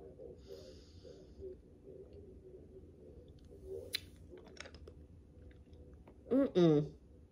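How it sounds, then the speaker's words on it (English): Soft, close chewing of a watermelon-flavored Sour Head candy, quiet moist mouth sounds that run under faint breathing, then a short burst of voice near the end. "So right now I am eating a sour head."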